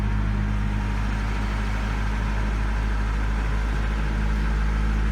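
A 1992 Acura Integra LS sedan with a five-speed, just started on the first crank, idles with a steady low engine rumble and hum that holds evenly throughout, close by and with no talking.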